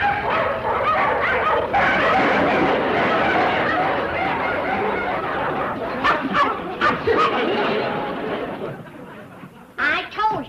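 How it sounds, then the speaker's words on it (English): A pack of dogs barks and yips excitedly while chasing a truck, dense overlapping barking near and loud, with a voice and laughter breaking through toward the end. "Them dogs look hungry enough to run him to the state line."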